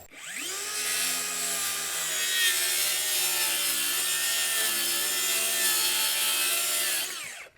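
A power saw rips a half-inch strip off a wooden board for a garden shed build, one continuous loud cut with a steady whine that starts abruptly and stops cleanly, with no voices.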